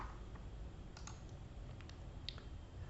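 Several sparse mouse clicks on a computer while selecting a membership renewal option, faint and close against a steady low hum, spaced irregularly with no talking.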